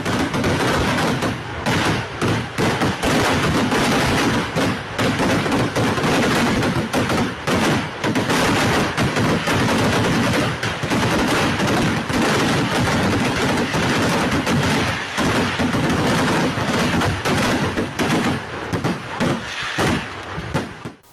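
Evening festival fireworks: a relentless, rapid barrage of loud bursts and cracking explosions, densely packed and continuous for about twenty seconds.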